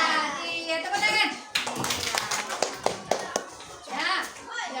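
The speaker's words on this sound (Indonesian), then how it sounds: "Iya, tepuk tangan." Young pupils clap their hands together in a classroom lesson, a short run of sharp, uneven claps in a loose rhythm, mixed with children's chatter and voices.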